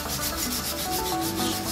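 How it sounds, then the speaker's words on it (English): Steel brush scrubbing a massive gold bar, a loud, close, continuous rhythmic rasping with repeated back-and-forth strokes. "This is a steel brush."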